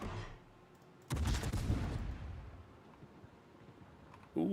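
In World of Warships, a battleship's heavy naval guns fire in one loud, booming salvo that decays slowly, followed by a second sharp report at the very end.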